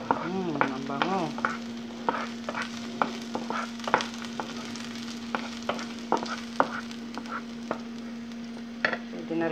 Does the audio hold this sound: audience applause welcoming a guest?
no